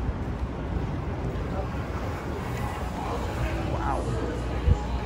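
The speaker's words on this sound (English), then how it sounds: "that I can't stand is on these walks, hearing the wind blowing" Wind buffets a microphone during a morning walk along the Las Vegas Strip, making a constant, close, low roaring rumble with faint voices mixed in.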